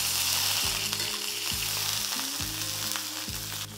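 Eye of round steak searing in a skillet, a loud steady sizzle and hiss with a low repeating tonal hum sliding down in pitch beneath it, and no talking.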